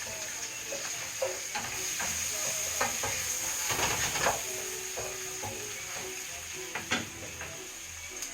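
Chicken sizzles steadily as it browns in a hot pan, with scattered stirring clicks and scrapes and a constant hiss of frying.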